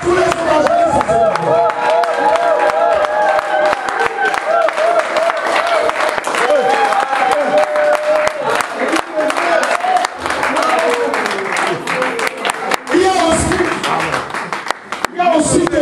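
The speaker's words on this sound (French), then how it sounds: "Alors tu vas acclamer tous les évangélistes." Church audience applauding and cheering for evangelists, a dense, loud, continuous wash of clapping with crowd voices and speech mixed in throughout.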